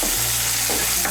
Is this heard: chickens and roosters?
no